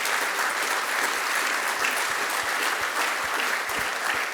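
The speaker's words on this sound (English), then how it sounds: "So can we give Wayne Mason a round of applause" Steady, dense audience applause at the 20-year anniversary celebration of the Atlanta Beltline, loud and sustained throughout with no talk over it.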